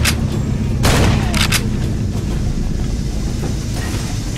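Shotgun blasts in Far Cry 2 on a barge at night in the rain, a few sharp, loud broadband bangs in quick succession near the start, then fading into a steady rumbling background of rain and engine noise.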